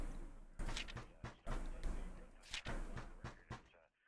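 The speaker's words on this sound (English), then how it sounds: "I'm getting a knock at my door." Several sharp knocks on a door in the alien horror game Incident at Grove Lake, spaced in uneven bursts and fairly close, with a voice talking over part of it.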